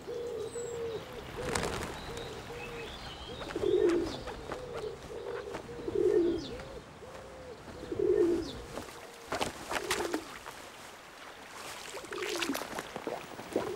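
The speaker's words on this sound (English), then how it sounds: "the thirsty pigeons head back to the empty beach once more." Pigeons on an empty river beach coo in soft repeated phrases roughly every two seconds, fairly close, over a constant outdoor wash of background noise.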